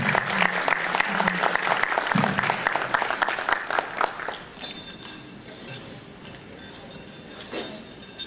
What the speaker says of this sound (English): So just one more round of applause for all of you.